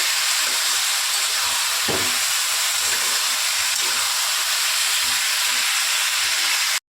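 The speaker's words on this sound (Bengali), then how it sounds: "আমি এখন ঝিঙেটা ভালোভাবে কষে নেব।" Ridge gourd sautés in mustard oil in a pan, a steady close sizzle and hiss with a few faint stirring scrapes throughout.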